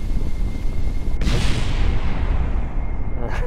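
I-beam rockets fire and explode in Kerbal Space Program from an A-10 Warthog craft: a steady low rumble, then one sharp, loud blast that swells into a sustained roaring boom before fading.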